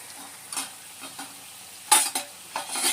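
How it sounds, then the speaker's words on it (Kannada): Eggplant bajji frying in hot oil, a soft steady sizzle with occasional sharper crackles and light stirring or utensil clinks, close and fairly quiet, with no talking. "ಇದು ಚೆನ್ನಾಗಿ ಫ್ರೈ ಆಗಿದೆ ನೋಡಿ"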